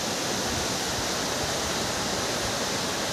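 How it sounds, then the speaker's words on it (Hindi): Waterfall in the forest at Periyar, Kerala, a steady, dense broadband rush of falling water heard from a distance, continuous and unbroken with no voices. "वहाँ से वाटरफॉल भी हो रहा है नीचे"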